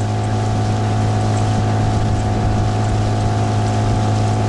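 A loud, steady motor drone from an outboard motorboat engine running continuously nearby on a taiga river, with a constant low hum and no talk.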